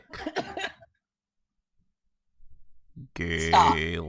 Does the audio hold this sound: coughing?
yes